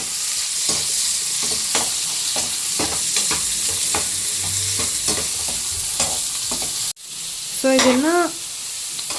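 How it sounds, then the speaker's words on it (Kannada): Chopped onions fry in a pan with a bright continuous sizzle and repeated clinks and scrapes of a spatula stirring, close and loud; near the end someone briefly speaks over the frying. "ಫ್ರೈ ಆಗೋ ತನಕ ಫ್ರೈ ಮಾಡ್ಕೋಬೇಕು"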